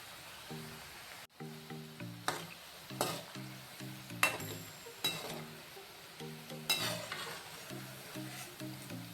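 Shankarpali pastries frying in hot oil on a low flame for a Diwali batch, a steady close sizzle broken by occasional stirring scrapes and clinks, with a soft repeating tonal hum underneath and no talking.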